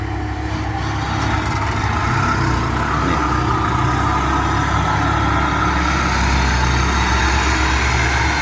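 A common rail diesel engine runs in a steady, loud, low rumble with constant mechanical clatter, continuous throughout without pauses.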